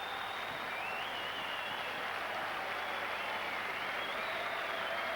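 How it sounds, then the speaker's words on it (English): A football crowd of blue-and-white supporters in a stadium at a Shelbourne v Kilmarnock Cup Winners' Cup match roars in a steady, distant wall of cheering that swells slightly and never breaks. "you can hear that loud cheer of relief from the blue and white throng across to the far side"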